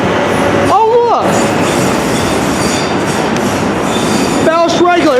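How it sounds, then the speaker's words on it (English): A ballast regulator track machine rolls past on the rail line, a loud close rumble with metallic wheel squeals at the start and end. "Just got a ballast regulator on the CNO side."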